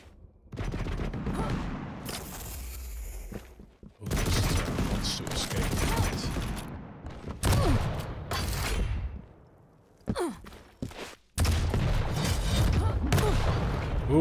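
Rocket launcher fire and explosions crash through a fast video game duel in loud, dense bursts separated by brief silences, with a commentator talking over parts of the action.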